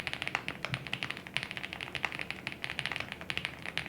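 Typing on a full aluminum mechanical keyboard with switches, rendered as a quick steady run of crisp, clacky keystrokes up close, each press distinct and bright, with no talking over them.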